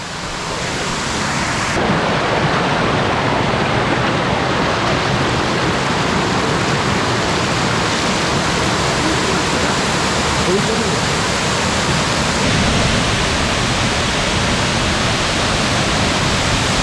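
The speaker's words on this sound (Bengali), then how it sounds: "ভিডিও দেখতে পাচ্ছেন কি অঝোর ধারায় ঝর্ণার পানি নেমে আসছে" Muppochora waterfall at Belaichhari in Rangamati pours down in a heavy, steady roar of falling water, loud and unbroken throughout, with no voices heard over it.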